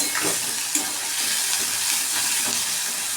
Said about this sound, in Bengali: পেঁয়াজটা আমি হালকা ভেজে নিচ্ছি, 5 মিনিট একটু ভেজে নেব, ফ্রাই করে নেব।